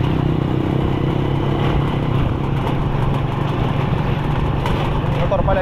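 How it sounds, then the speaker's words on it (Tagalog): A motorcycle engine runs continuously nearby with a steady rough drone, loud and constant throughout, with outdoor background noise around it. "Motor pala ni Rambo, si Raden"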